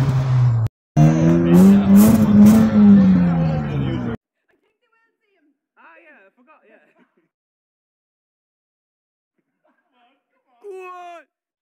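A rally car engine at the Donegal rally revs loudly and close for about four seconds, its pitch rising and falling, followed by near silence with faint distant sounds and a short final burst, while voices are heard.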